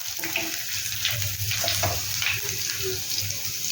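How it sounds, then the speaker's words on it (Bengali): Chopped garlic, ginger and onion hit hot oil in a frying pan with a steady, close hiss and crackle that holds for the whole stretch, with a few faint scrapes of stirring. "রসুন কুচি আদা কুচি আর পেঁয়াজ কুচি দিলাম"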